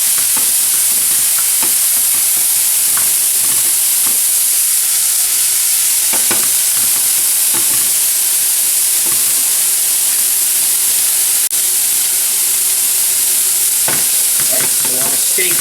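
Small-cut pieces of steak seasoned with black peppercorn frying in a hot pan, a loud continuous sizzle with occasional stirring scrapes and pops, no talking.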